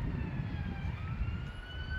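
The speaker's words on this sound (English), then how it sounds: "Sorry about the sirens in behind." A wailing siren sweeps up and down over steady low traffic rumble in Bodmin, Cornwall, continuous and fairly distant, with no voices.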